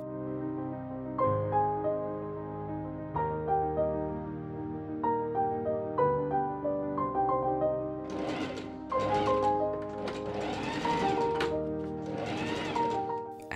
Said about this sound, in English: I pin and machine sew French seams along the sleeve and bodice sides